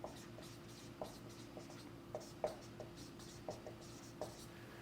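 Pen strokes on a board during a histology lecture on the endocrine system, a steady series of short, faint scratches and taps coming in quick bursts, close by and alone.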